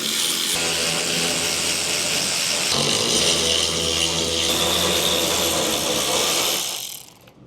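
Ratcheting tool works steadily at trim on the rusty bed of a Squarebody Chevy C10 truck, a continuous close mechanical clicking with metallic rattle that runs several seconds before cutting off near the end.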